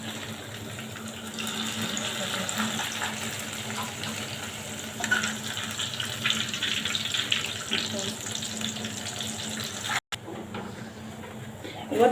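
Water from cooked pasta for Egyptian koshari pours out into a sink, a steady broadband rush that runs for most of the clip with a brief break near the end.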